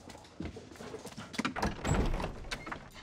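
A door is opened indoors with a series of thunks, bumps and handle rattles, fairly close, rising to a louder knock near the end, with no talking over it.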